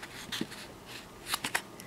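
Paper is folded and creased into an origami heart envelope, producing close, soft rustling with a few sharper crinkles near the end and no talking.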